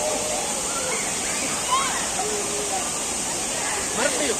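Thirumoorthi waterfall pours down with force in a dense, continuous roar of falling water, loud and close, with faint voices in the background.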